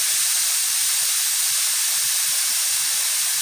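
A pressure cooker vents steam while meat karahi cooks, a loud continuous hiss held steady throughout, with no one talking.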